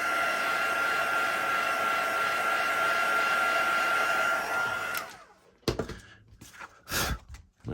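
A heat tool blows a steady, loud whirring hiss over a stamped card for about five seconds, then cuts off, followed by soft handling thumps and rustles.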